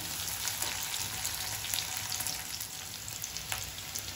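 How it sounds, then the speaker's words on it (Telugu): Onions roast in a hot pan for a spicy anchovy (neethili) fish curry, giving a steady, close crackling sizzle with no talking. "రోస్ట్ అవ్వాలి ఆనియన్"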